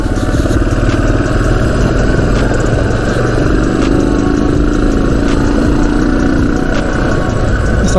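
A Yamaha XT 400 Paris Dakar motorcycle runs on light throttle, a loud, close, steady single-cylinder thrum with a faint rising whine mid-way, mixed with continuous wind and road rumble.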